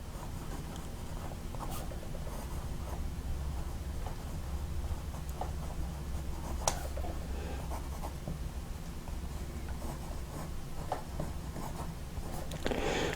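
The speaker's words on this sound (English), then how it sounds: "when you touch this nib to paper, it is as smooth as any nib I've ever used" A Delta Sea Wood fountain pen nib scratches softly across paper in a steady, faint writing sound, with occasional small ticks and taps over a low background hum and no talking.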